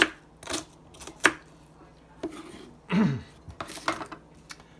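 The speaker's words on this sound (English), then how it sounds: "dice up my onion" An onion being diced with a knife on a board: a run of crisp, close chopping taps in uneven bursts, with short pauses and soft handling noises between them.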